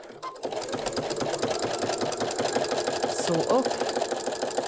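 A sewing machine stitches steadily through a Thermolam-padded cafetière cover with ribbons, a continuous close whirring patter with a voice speaking briefly over it.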